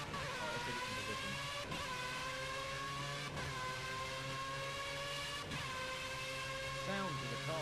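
Racing car engines in Project Cars on Xbox One drone steadily, revving up and down with gear-change dips, fairly faint, while a voice talks over the continuous engine tone.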